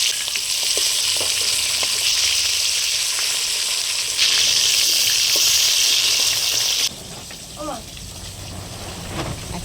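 Katla fish, just flipped, sizzles loudly in hot oil with a steady, dense crackle that drops slightly quieter near the end, when a few soft stirring sounds come through.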